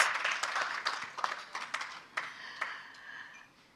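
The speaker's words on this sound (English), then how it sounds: "you should give him a big round of applause" Scattered applause from a forum audience for the JCF Deputy Superintendent, a modest burst of clapping that thins out and fades toward the end.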